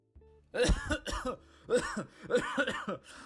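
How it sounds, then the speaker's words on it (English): A series of harsh, throaty coughs in several bursts, close and fairly loud, with brief pauses between them. "this cough is killing me"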